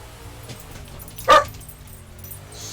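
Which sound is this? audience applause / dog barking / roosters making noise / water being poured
dog barking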